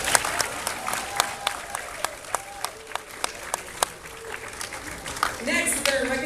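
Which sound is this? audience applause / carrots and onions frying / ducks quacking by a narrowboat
audience applause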